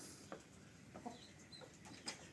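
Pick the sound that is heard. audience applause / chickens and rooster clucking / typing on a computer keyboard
chickens and rooster clucking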